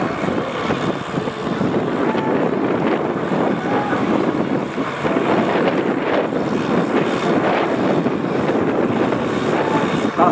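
A tractor pulling a Farmi sled in the 4500 kg class at a Kouvola power pulling event gives a steady, loud, continuous engine roar with wind buffeting, no talk.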